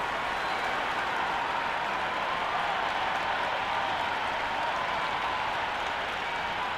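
Steady roar of a stadium crowd in an IPL cricket video game before the first ball is bowled, a dense continuous wash of cheering and clapping holding at a constant level throughout.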